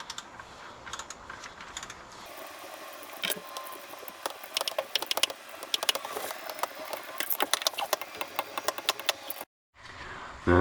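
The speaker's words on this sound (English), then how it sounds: "we're going to torque all of these bolts to 33 pounds" A torque wrench ratchets as it tightens differential cover bolts to 33 pounds, producing rapid, close clicking bursts that grow denser and louder, with a brief pause near the end.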